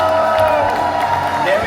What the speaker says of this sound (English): give Baymax a huge cheer